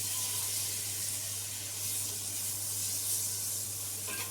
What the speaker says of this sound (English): So I've got the flame on a medium heat and I'm going to add the butter. So I'm going to stir the butter until it melts.